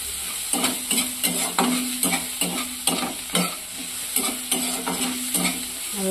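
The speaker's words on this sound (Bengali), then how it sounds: "পেঁয়াজটা একটু হালকা ভাজা হচ্ছে, একটু লবণ দেওয়া হলো" Onion frying with salt in a pan for a light potol curry, a steady close sizzle broken by repeated scraping stirs of a spatula at an uneven rhythm, with no talk.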